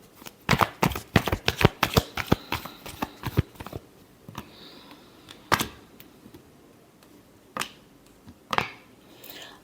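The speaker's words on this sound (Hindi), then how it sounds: "एक बार लास्ट शफल।" Tarot cards are shuffled by hand in quick, crisp bursts of riffling slaps, then a few slower isolated snaps, close and fairly quiet.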